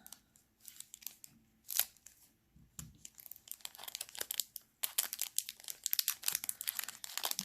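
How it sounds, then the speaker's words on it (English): Scissors snip and slice open an unboxing package, with crinkling plastic and paper rustle building up around the cuts, quiet and close in an ASMR setting, with no talk. "I'm just gonna cut it open."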